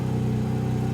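Porsche Spyder RS engine, warmed up, revving with a deep, steady throaty drone, loud and close, sustained without a break and with no talking.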